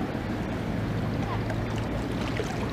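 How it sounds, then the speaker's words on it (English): Strong gusting wind buffets the bank of the River Trent, a steady broadband rush with low rumbling buffets, continuous and close throughout with no voices. "The wind has been getting really strong as well, really choppy"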